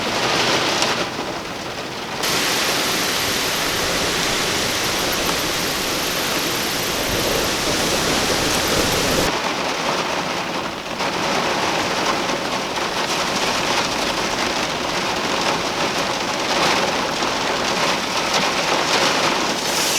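Steady, heavy rain pours throughout a summer storm while carp fishing in Ontario, a dense continuous hiss with brief shifts in intensity; no distinct thunder rumble stands out.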